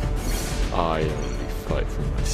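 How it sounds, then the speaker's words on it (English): A turret is destroyed in the mobile game Granger, giving a loud crashing impact with a voiced game announcement over dense, continuous game audio. "Your team destroyed a turret!"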